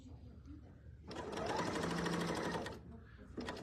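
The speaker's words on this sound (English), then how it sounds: "Listen to how quiet it is. It's just an awesome serger." A serger sewing machine stitches quilt pieces together in pairs, a steady fast whirring run of about a second and a half, fairly close, with quiet room sound before and after and a brief restart at the end.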